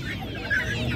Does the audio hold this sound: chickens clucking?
yes